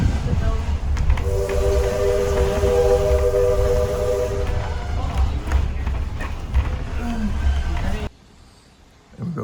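Canadian Northern steam locomotive 107 at Fort Edmonton Park blows a long, steady whistle over rumbling running noise, then the sound cuts out abruptly into near quiet near the end.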